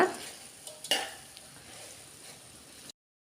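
A spoon stirs tamarind into Kerala-style avial in a pan with a soft scrape and a faint sizzle. Near the start there are a couple of light utensil knocks, then quiet steady mixing with no voices.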